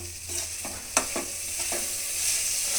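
Chili powder being stirred in a pan for vangi bath gojju, a soft steady sizzle with a few light scraping strokes of the spoon, close and fairly quiet, with no talking.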